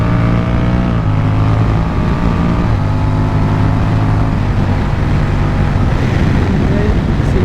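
A Honda Rebel 1100 DCT cruiser motorcycle runs wide open on a racetrack, its engine roaring in a steady, loud, continuous drone with rising harmonics and a shift partway through, plus wind buffeting the microphone.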